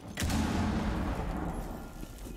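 Frag grenade detonating in Rainbow Six Siege, a sudden sharp blast followed by a heavy, rumbling low roar that decays slowly over two seconds, loud and close.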